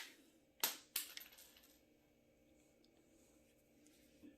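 Cartridge ejected from a Rossi .357 Magnum lever-action rifle: two sharp metallic clacks of the lever cycling in quick succession, close and crisp, then quiet with light handling noise.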